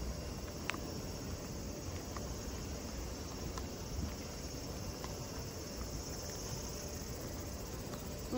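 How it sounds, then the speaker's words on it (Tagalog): A dense, steady chorus of crickets and other insects fills an open outdoor setting at sunset, faint and even, with a few soft scattered clicks and no talking. "mayroon yung maraming nagliliparan na mga insekto"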